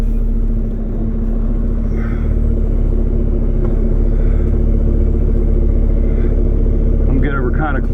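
A truck idles in gear and rolls forward once the parking brake is released, a low steady engine rumble close by with a brief higher whine near the end.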